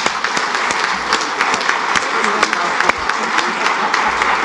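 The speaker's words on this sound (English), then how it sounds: "So let's give them a round of applause." A conference audience applauds continuously in a hall, many hands clapping at a fairly close, even level for several seconds.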